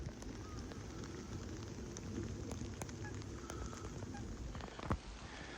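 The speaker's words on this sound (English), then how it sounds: "when the rain's coming down this heavy" Heavy rain falls steadily in an outdoor country park, a dense, even hiss of drops with a few sharper taps standing out.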